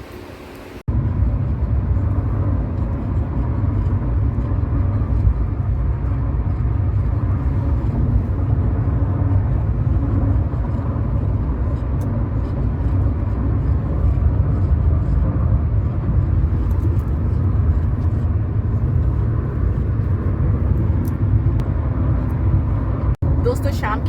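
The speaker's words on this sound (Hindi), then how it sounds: "जब सचिन जी आ जाएंगे अपनी गाड़ी में, अपनी सवारी में," A car on the road heard from inside: a steady, loud engine and road rumble that holds evenly throughout, with indistinct voices mixed in over it.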